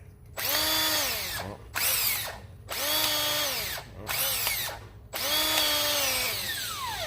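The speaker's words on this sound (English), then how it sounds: "I'll make this hole just a little bit bigger so I can get some more weld in there." A power drill runs in several loud whining bursts with short pauses between, the motor pitch dipping as the bit bites into metal while a hole is enlarged for welding a woodturning tool rest, close up.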